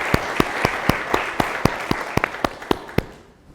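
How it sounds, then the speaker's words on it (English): An investment forum audience applauds in a sparse, rhythmic patter of individual claps, fairly close and fading out at the end. "A big applause for them, please."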